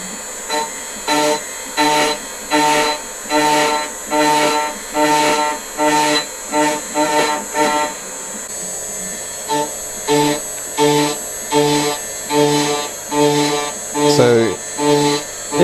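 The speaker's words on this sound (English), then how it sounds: "Spindle speeds up, ramps up to the relevant RPM" A CNC router spindle ramps up and mills walnut or steel stock for floating bed side tables, a loud steady machine whine broken into regular rhythmic pulses as the cutter makes repeated passes, with a pitch shift near the end.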